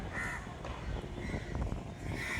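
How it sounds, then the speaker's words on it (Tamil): A crow caws outdoors in a few short, harsh calls that rise above steady, noisy background rumble. "ஒரு காக்கா கத்திட்டு இருக்கேன், அந்த நாய்ஸ்லாம் கண்டிப்பாக கேப்சர் ஆகும்னு நினைக்கிறேன்."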